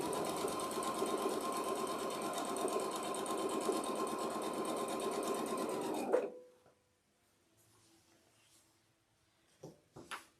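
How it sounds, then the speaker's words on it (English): A Husqvarna Viking sewing machine stitches at a steady, fast rhythm, a close mechanical whir for about six seconds that then stops abruptly. A few faint knocks follow in the quiet. "I always feel like I'm sewing so slow when I'm sewing on this machine"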